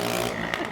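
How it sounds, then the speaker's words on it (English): A moped buzzes past on the road during a Florida–Georgia road trip, a brief loud engine drone with a sharp rising whine near the end, heard up close and alone. "that was a moped noise, not our van"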